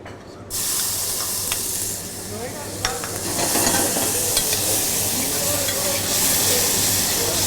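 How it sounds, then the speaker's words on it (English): Tomatoes and onion hit hot oil in a pan with a sudden burst of loud sizzling, which then keeps frying steadily while a utensil stirs and scrapes close by. "in this little bowl I have some tomatoes, some onion, which we're going to fry together"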